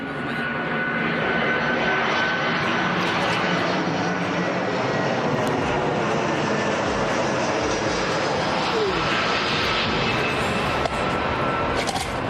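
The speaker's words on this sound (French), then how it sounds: "Ah, il y a un avion qui passe." An airplane passing overhead makes a loud, steady engine roar that fills the whole stretch with continuous broadband rumble, with no speech over it.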